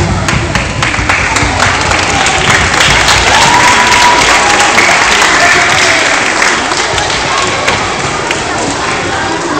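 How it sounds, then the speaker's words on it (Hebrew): A large crowd applauds loudly and steadily throughout, a dense, continuous wash of clapping with scattered thuds and faint cheers at a Jerusalem Day gathering. "זה הזמן למחוא כפיים"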